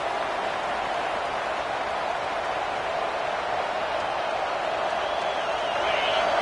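A large stadium crowd at a football game roars steadily, a dense continuous wash of cheering and noise that swells slightly toward the end, with no clear talk above it.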